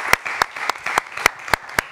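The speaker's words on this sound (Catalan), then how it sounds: "Un fort aplaudiment per ella." Scattered clapping from a studio audience on a Catalan spelling-contest programme, with a few loud, evenly spaced sharp claps over a softer patter of hands, brief and close.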